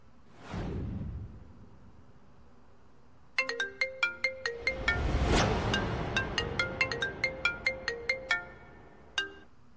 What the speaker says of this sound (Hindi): अम्मा वेदांत को फोन लगा